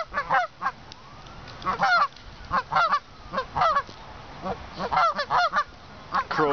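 A flock of geese honks repeatedly at close range, loud overlapping calls coming in irregular bursts over a steady outdoor background.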